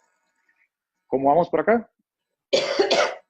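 A person gives two quick, loud coughs right after a short spoken question, with a clear gap of silence between the speech and the coughs.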